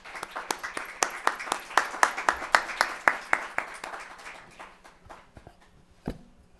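Audience claps in thanks after a talk on visual analysis of violence in Latin America, around a dozen distinct sharp claps spaced evenly, then thinning out and fading, with one louder clap near the end.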